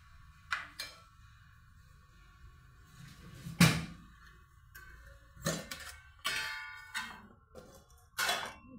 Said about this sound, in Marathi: लसूण, शेंगदाणे आणि मिरची असे कुटून घेणार आहे, असे जाडभरड